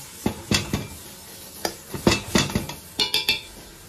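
Metal pot lid clattering onto a pressure cooker pot of stewed pork ribs and green beans, a series of sharp clinks and knocks, close and fairly loud, with no talking.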